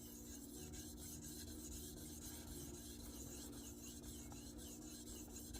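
Case Sodbuster knife blade drawn across a sharpening stone at the second grit, a quiet, steady rasping scrape in rhythmic strokes with no voices.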